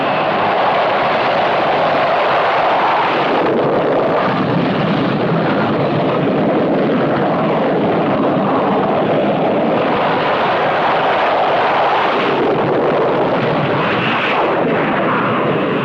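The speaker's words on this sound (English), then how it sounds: "Standing start, 20 tons of aircraft reach flying speed in 2 seconds flat." A loud, sustained jet roar blasts continuously, with a harsh rushing rumble that swells and shifts slightly, as a 20-ton US Navy aircraft launches by catapult off a carrier deck.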